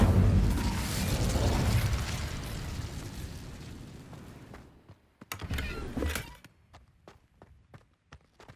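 Incendio fire spell cast in Hogwarts Legacy, a loud whooshing burst of flame that roars and slowly fades, followed by a second short flare and scattered crackling pops.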